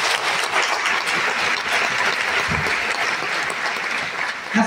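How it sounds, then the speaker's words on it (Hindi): Loud, sustained audience applause at a school-related gathering in honour of the relatives who raised the host, a dense wash of clapping filling the whole stretch with no talk over it. "मैं एक बार आप लोगों के सहयोग से चाहता हूं इनके लिए जोरदार तालियां हो"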